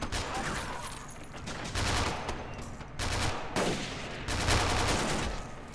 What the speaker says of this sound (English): Oh, look, they're shooting from over the wall.